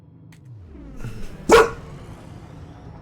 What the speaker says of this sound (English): Very loud bark, too. Very deep, piercing bark on this dog.